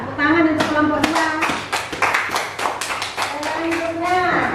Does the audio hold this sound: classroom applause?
yes